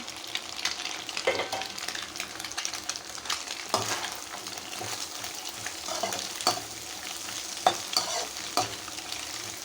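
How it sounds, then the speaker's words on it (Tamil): Shredded cabbage and capsicum fry for beef fried rice, a dense, close sizzle broken by repeated scraping and clattering stirs of a spatula against the pan, with no voices. "இப்போ இந்த கோஸு நல்லா ஃப்ரை ஆகட்டும்"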